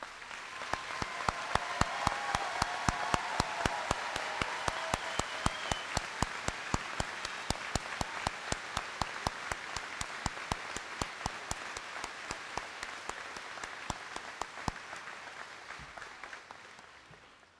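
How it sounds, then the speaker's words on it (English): High school graduation audience applauding military veterans as they stand, a long sustained round of clapping from a large crowd, with sharp individual claps popping out close by over the steady wash. "Please stand up and allow us to give you a warm round of applause."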